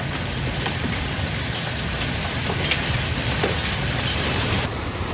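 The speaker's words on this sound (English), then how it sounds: "Images and video showed massive hail falling and down tree limbs across the city." A storm in Austin, Texas drops baseball-sized hail, heard as a dense, steady roar of impacts on surfaces, loud and unbroken throughout with no voices.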